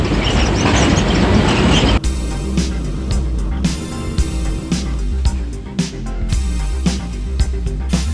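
Pakistan's Green Line Express rolls through a hilly ghat section between Rawalpindi and Lahore, a loud rushing roar giving way to steady rumbling with repeated clicks and clunks of wheels over rail joints.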